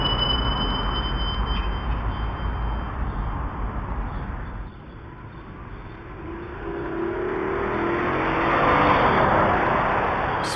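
A car speeds past at about 60 miles an hour on a city street with high-speed traffic, its broadband road noise dipping briefly and then swelling again as it approaches and passes nearby, with a steady high whine over the scene.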